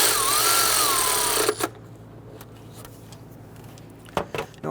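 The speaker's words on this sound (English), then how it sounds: "Now we can tighten down this bracket." A power tool runs briefly while tightening a bracket bolt on a 2011-2017 Nissan Quest 3.5L V6 engine. It is a loud, steady whir of about one and a half seconds, followed by quiet with a few faint clicks and knocks.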